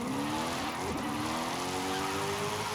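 A Forza Horizon 5 car engine revs freely, its tone rising and falling smoothly, loud and close throughout.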